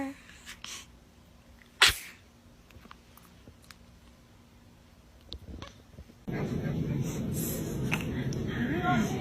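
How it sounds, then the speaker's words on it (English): A baby sneezes once, a sharp burst standing out against a quiet room, with small soft sounds before it and a steadier background noise rising toward the end. "Were you about to sneeze?"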